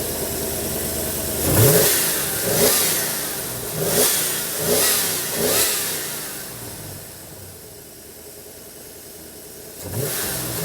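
Old truck engine with its throttle position sensor unplugged, revving in four or five sharp bursts that rise and fall, then dropping to a rough, unsteady idle before one more rev at the end, close and loud.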